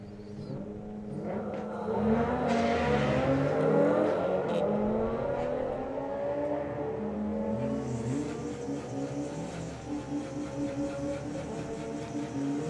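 Drag racing cars at the Summer Nationals accelerating hard down the strip, a loud rising engine roar that peaks early and then holds as a steady, slightly distant whine.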